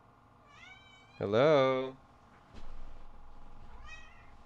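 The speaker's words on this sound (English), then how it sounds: "Kitty has arrived." A house cat meows clearly and fairly loudly, one long meow followed by a softer short one, while a person speaks a brief greeting nearby.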